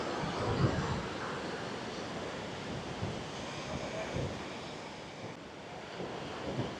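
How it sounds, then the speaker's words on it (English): Steady wind roaring and buffeting across an open exposed spot high on the Caminito del Rey trail in Spain, a constant broadband rush with occasional gusts; no one speaks. "It's getting quite breezy up here, actually."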